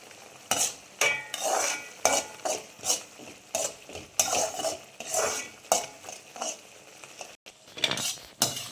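A spoon stirs a thick mango mixture in a metal pot, making rhythmic scraping and clinking strokes that repeat steadily, close and fairly loud, with no talking.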